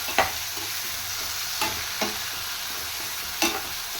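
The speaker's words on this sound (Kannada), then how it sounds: "ಅದಕ್ಕೆ ಒಂದು 2 ನಿಮಿಷ ನೀವು ಈ ರೀತಿ ಚೆನ್ನಾಗಿ ಫ್ರೈ ಮಾಡ್ಕೊಳ್ಳಿ." Tomatoes fry in a hot pan with a steady, dense sizzle. A few sharp scrapes and taps from stirring cut through it, and no voices are heard.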